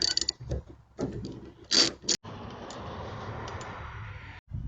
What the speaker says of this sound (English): Next we're going to take our 10mm socket and remove the nut on the end of this arm.